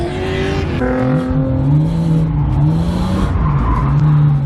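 A drift car's engine revs hard on clutch kicks while tires squeal and skid in long wavering screeches at a drift night event, loud and close, with repeated rising and falling engine pitch.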